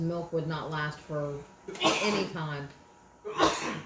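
A person sneezes once, loud and close, in a hot, humid home kitchen, set between stretches of talking.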